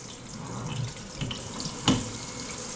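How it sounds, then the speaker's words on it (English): Tap water runs steadily over a freshly skinned bluegill fillet being rinsed in a sink, a continuous splashing hiss with a brief louder gush near the end. "Rinse so you don't contaminate the meat."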